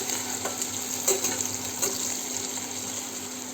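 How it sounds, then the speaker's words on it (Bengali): Onions fry in oil in a faint, continuous sizzle, with light stirring and a soft watery hiss under it. "পেঁয়াজটাকে ভালো করে একটু লাল লাল করে ভেজে নিতে হবে"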